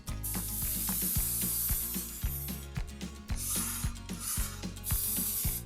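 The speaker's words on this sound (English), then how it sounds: "I'm going to coat it with cooking spray first" Cooking spray hisses in short bursts into a metal cake pan while preparing a kuchen coffee cake, mixed with clicking, ratcheting and clanking close by, with no talking.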